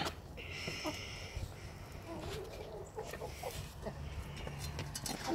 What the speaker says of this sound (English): There are all my hens